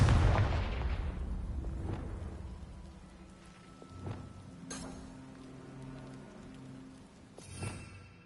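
A Confringo fire-blast spell in a Harry Potter game bursts loudly at the start and rumbles away, followed by a few sharper, quieter cracks and thuds scattered through the rest.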